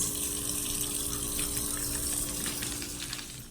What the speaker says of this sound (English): Okay, it's halfway filled up with water.